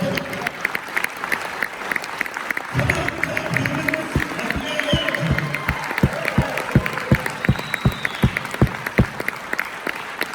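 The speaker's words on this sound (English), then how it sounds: "Clap your hands if you want to go" An audience at a motivational talk applauds, first a general wash of clapping, then settling into loud, evenly spaced rhythmic hand claps in unison, with crowd noise and some voices underneath.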